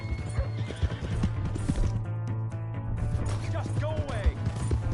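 A horse whinnies and hooves clip-clop in the Red Dead Redemption 2 video game, loud and close, with bumps and clatter as voices shout over the scene.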